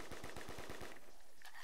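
A death machine weapon in a video game fires a rapid burst of about eight evenly spaced shots, then cuts off into a brief fainter tail.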